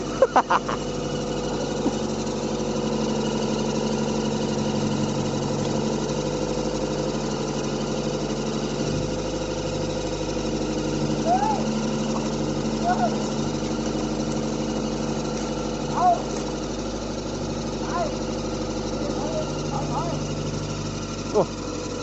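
A newly installed engine idles steadily in a vehicle called Kitty, making a continuous even hum with a low rhythmic throb, while voices talk faintly over it.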